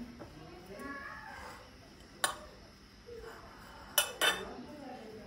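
Chopped coriander is mixed into a chicken patty filling in a bowl. A spoon gives soft scraping with a few sharp clinks against the dish, quiet and close, with faint voices in the background.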